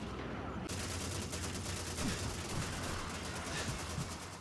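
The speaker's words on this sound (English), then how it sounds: "there's a tank shooting at them and they still have the time to shoot me in the face" Gunfire and tank shots in the Call of Duty 2 video game, a dense continuous fusillade of rapid shots with a few sharper blasts, steady and loud in the game mix.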